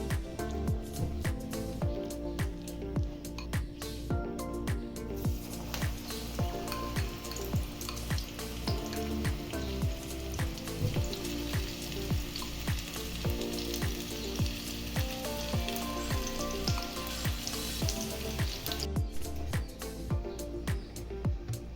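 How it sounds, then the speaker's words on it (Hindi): Spinach and eggplant pakora batter frying in hot oil, a steady sizzle running the whole time beneath rhythmic background music. "अब हम इसको फ्राई करेंगे"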